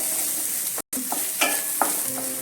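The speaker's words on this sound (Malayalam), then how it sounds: "1 കഷ്ണം ഇഞ്ചി ഒന്ന് അരിഞ്ഞെടുത്തത് ഈ കണക്കിൽ, 10 ചെറിയ വെളുത്തുള്ളി 2ആയിട്ട് പൊളർന്നത്. ഒന്ന് വഴലട്ടെ." Chopped ginger and halved small garlic cloves sautéing in oil with shallots for prawn roast, a loud continuous sizzle with a few spatula knocks and a momentary dropout, no voices.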